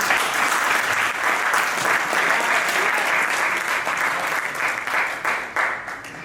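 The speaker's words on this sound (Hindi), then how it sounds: "उनके सम्मान में तालियों का महोत्सव होना चाहिए।" Audience at a Hindi poetry gathering breaking into vigorous applause, a dense sustained wash of many clapping hands, loud and steady, thinning slightly in the final second.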